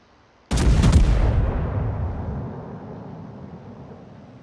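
Warship main guns blind firing in a naval video game, a single heavy boom that erupts sharply and then rolls away in a long, slowly fading rumble, loud and alone.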